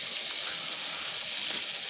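Shrimp sizzling in a hot pan indoors, a steady, moderately quiet hiss and crackle with no voices.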